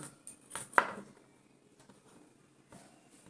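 A knife chopping soya chunks into small pieces for soybean manchurian, a few quiet cuts with one sharper thud near the start, then near silence with faint handling, no talk.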